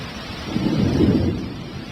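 A low rumble of thunder swells and fades over steady rain falling, with no voices.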